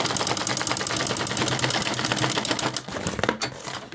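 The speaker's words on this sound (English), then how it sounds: "sew it from one end to the next end" Sewing machine stitching a fabric shopping bag, a fast steady run of loud mechanical needle strokes up close, briefly slowing and sputtering near the end.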